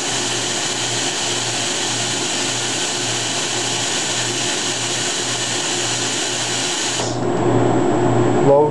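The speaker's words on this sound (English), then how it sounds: "Run a dry cycle to heat up the die." A PWS HPS-10 machine runs a dry cycle to heat its die, giving a steady loud mechanical whine and hum that shifts in tone near the end, with talk over it.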